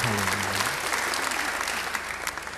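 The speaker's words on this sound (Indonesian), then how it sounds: "Yang percaya beri tepuk tangan yang baik bagi dia." Applause from a church congregation during a sermon, a steady wash of many hands clapping at moderate level, with a brief voice fading out at the start.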